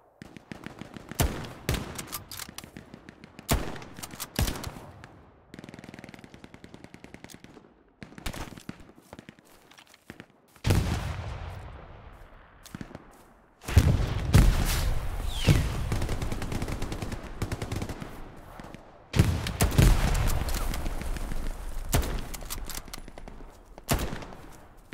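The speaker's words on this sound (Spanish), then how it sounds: "me disparan no sé de dónde" Gunfire in the World War II shooter Hell Let Loose: sharp single shots and rattling automatic bursts, near and far, come in uneven clusters, with heavy sustained firing in the second half and brief quiet gaps between.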